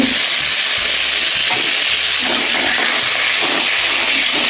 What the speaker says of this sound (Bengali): পটলগুলো আগে ভেজে নেব